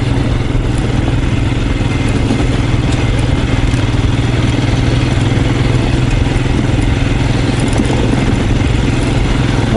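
A Royal Enfield Scram 411 motorcycle rides off road through a forest, its single-cylinder engine thrumming loud and steady with wind rush and no speech.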